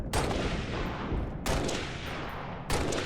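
Dense gunfire and weapon blasts from a Halo: Reach firefight against fuel rod cannon grunts on Xbox 360 at Legendary difficulty, a loud continuous roar broken by sharp renewed bursts, with no talk.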